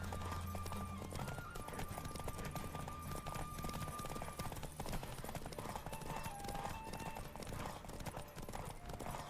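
Rapid, rhythmic hoofbeats of a horse galloping hard in a race in the video game The Witcher 3: Wild Hunt, a continuous drumming clatter with faint tonal game sounds layered above.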